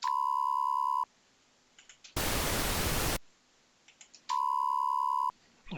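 A sine tone amplitude-modulated at 70 Hz plays as two steady, loud, one-second beeps, separated by a burst of loud broadband hiss, with near silence between them and no voices.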